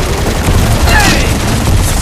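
Dense gunfire in the video game Firefall during a thumper resource event, a loud continuous volley of booming shots and rumble with no clear gaps.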